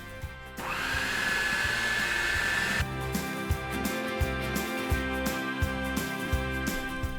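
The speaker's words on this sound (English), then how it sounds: "give it one final blend to get it nice and creamy smooth" A blender purees homemade hummus made without tahini until creamy smooth. A whirring motor runs loudly for about two seconds, its pitch rising slightly, then stops, leaving a quieter background with soft rhythmic knocks.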